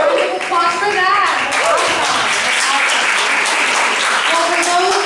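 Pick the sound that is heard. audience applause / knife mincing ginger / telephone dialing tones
audience applause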